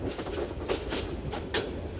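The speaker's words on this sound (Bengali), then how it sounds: "ট্রেনটি এই মুহূর্তে গৌরীপুর রেলওয়ে জংশনে প্রবেশ করছে" A passenger train on the Kishorganj–Jamalpur line rolls into Gouripur railway junction, a continuous rumble cut by rhythmic clattering bursts from the wheels passing rail joints.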